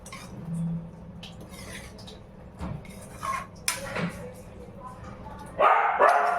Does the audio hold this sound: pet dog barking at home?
yes